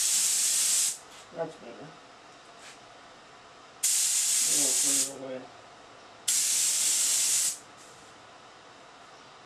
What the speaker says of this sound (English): Just going back to spray the fronts.